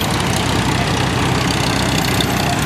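A 1937 crawler track tractor sits idling nearby, its engine giving a steady, loud low rumble with a rough, slightly knocking chug throughout and no voices over it.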